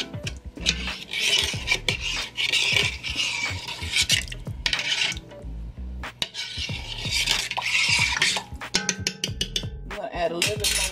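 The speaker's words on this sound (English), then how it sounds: "you're basically just scraping all that flavor off the bottom" A metal utensil scraping and stirring the bottom of a pot of hearty vegetable beef stew, repeated rasping strokes with clinks and knocks against the pot, loud and close, in uneven bursts with brief pauses.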